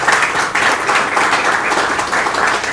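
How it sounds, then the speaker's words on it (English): A loud, sustained round of applause for visiting guests fills a room at a postgraduate students' research workshop, dense clapping with slight swells and no speech. "I think they deserve another round of applause"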